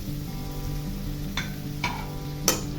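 Mashed tomatoes go into frying onions and get stirred, giving a low continuous sizzle with a few sharp spoon taps against the pan, the last one loudest.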